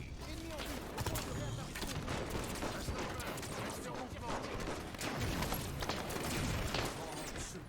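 Video game gunfire crackles in dense, continuous bursts through the clip, with the player talking over it, all at a fairly even level.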